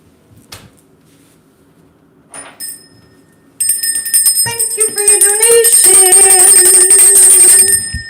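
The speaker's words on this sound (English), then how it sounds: "Hang on, I'm going to get my bell." A handheld bell rings loudly and continuously after a few soft knocks and clatters, its bright metallic peals sustained and ringing on for several seconds close by.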